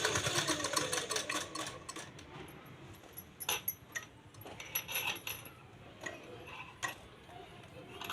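A sewing machine stitches a folded cloth baby cap, its needle ticking in short irregular bursts of close mechanical clatter over a faint background hum.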